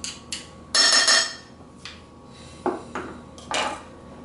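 A single garlic clove is squeezed in a metal garlic press in a kitchen, giving a few sharp metallic clicks and clanks spaced irregularly over a few seconds.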